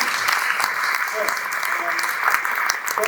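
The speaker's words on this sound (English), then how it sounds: "I'd like a round of applause to all the panellists" An audience at a nature and climate panel event applauds the panellists with steady clapping and a few sharp individual claps, while a voice talks briefly over it.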